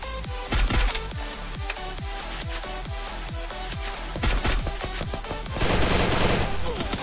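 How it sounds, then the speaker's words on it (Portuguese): An MP40 submachine gun fires repeated rapid bursts in a video game, a dense run of sharp, loud cracks one after another. "Deu uma rajada MP40 e caiu."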